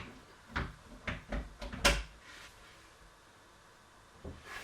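A series of wooden knocks and clicks as cabinet door panels are pushed into place, several sharp taps close together followed by quiet.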